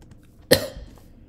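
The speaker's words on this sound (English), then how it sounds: "It's weird how your body's like demands you to cough." A single sharp human cough bursts out once, close and fairly loud, then fades quickly into quiet room tone.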